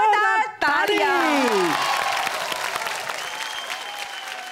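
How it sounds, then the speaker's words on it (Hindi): Applause from a studio audience on a televised Bhojpuri biraha music competition, sounding loud and continuous after a brief sung or spoken phrase at the start, with tonal sounds from the stage mixed in. "जोरदार तालियां"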